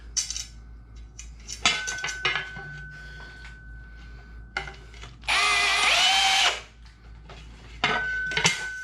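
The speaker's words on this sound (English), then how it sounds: "You can see all the holes have been countersunk to where they need to be." A power drill countersinks holes in an aluminum astromech droid leg in one loud, sustained whirring burst. Metal parts clink and clatter before and after as they are handled on a workbench.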